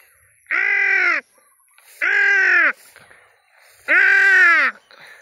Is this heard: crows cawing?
yes